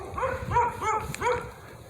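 Neighbouring dogs barking nearby: three or four moderate barks in quick succession, slightly whiny, with no speech over them.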